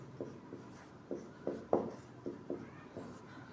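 Marker or chalk strokes on a classroom board during a physics lesson come as about eight quiet, separate scratchy taps and squeaks at irregular intervals, close and alone with no talk.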